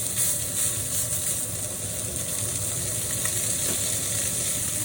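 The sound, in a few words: pork chops sizzling in a pan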